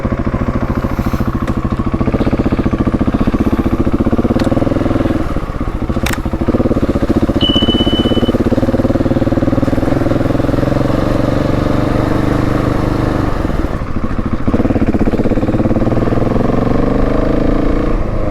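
A Husqvarna 701 Enduro motorcycle rides off-road trails, its single-cylinder engine droning loud and steady close to the microphone, with shifts in pitch as it accelerates and eases off.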